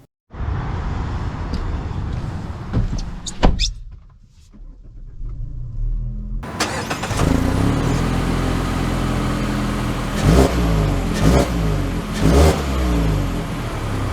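A 2023 Mazda CX-50 Premium Plus pulls away, its engine rumbling and revving up through the gears, steady and close from inside the car, after a short quiet moment, with no talk.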